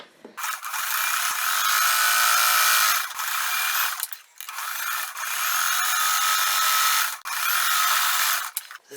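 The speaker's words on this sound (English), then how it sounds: "we're just going to sew the side seams" Sewing machine stitching the side seams of a woman's blouse being upcycled into an overalls jumper, a steady close mechanical whir running in three long bursts with short pauses between.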